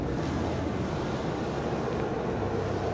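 A car engine idles steadily with the hood open, a continuous low rumble heard up close with no speech.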